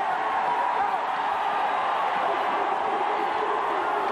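A large stadium crowd of about 7,500, mostly Texas Longhorn fans, at the 1991 Cotton Bowl between Miami and Texas, making a steady, distant wash of cheering and murmur with no distinct peaks.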